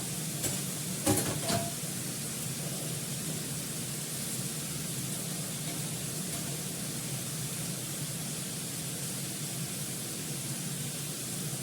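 Cabbage frying in oil in a pan with green chillies, a steady close sizzle running evenly throughout with a few brief clinks near the start.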